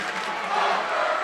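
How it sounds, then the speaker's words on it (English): Gym crowd at a high school boys' basketball game reacting loudly in the final minute, a sustained roar of many voices that swells slightly toward the end. "the crowd starts to let Loudon know how they feel about them"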